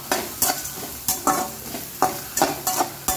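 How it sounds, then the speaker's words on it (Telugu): Ridge gourd frying in a pan for chutney, with several sharp stirring scrapes at an uneven rhythm over a steady sizzle, close and fairly loud. "మనం 2 నిమిషాలు ఇలాగా మూత పెట్టుకొని ఫ్రై చేసుకుందామండి"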